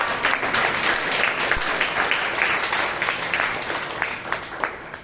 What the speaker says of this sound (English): Can we have a huge round of applause for our general evaluator?